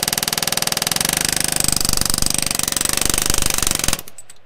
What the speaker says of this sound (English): We're going with an air hammer on a hydraulic hose.